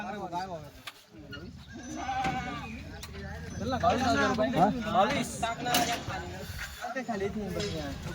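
Newly arrived Kathiawadi goats bleating repeatedly at a livestock market, several animals calling close and overlapping in a wavering chorus, with a voice talking in the background.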